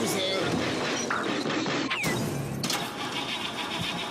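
A cartoon scooter engine sputters into life with a mid-pitched mechanical rev, close and loud, while animated voices talk over it and a sharp whoosh cuts in midway.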